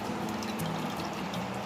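Water poured steadily into a spiced pani puri paste in a home kitchen, a close, continuous liquid splash and trickle with no speech over it.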